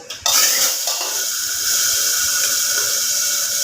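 Hilsa fish heads and fish oil drop into hot oil in a pan and set off a loud, steady sizzle that carries on close and unbroken, with a faint clatter near the start.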